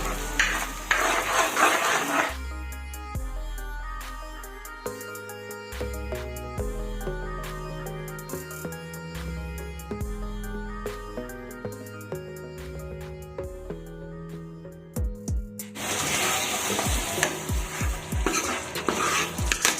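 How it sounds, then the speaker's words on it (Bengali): Ginger and onion fry in hot oil in a pan, a bright crackling sizzle with stirring at the start and again at the end, separated by a stretch of instrumental music. "এবার এটাকে আমি তেলে খুব সুন্দরভাবে ভেজে নেব যতক্ষণ না আদা পেঁয়াজের কাঁচা গন্ধটা চলে যায়"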